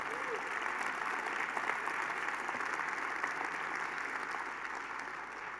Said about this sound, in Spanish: Séllalo con un fuerte aplauso al Señor